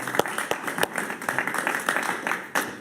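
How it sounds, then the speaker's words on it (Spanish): A studio audience applauds a guest, Leocenis García, on a talk show, a dense burst of clapping with sharp individual claps standing out, sustained and fairly close throughout. "Un aplauso para Leocenis García."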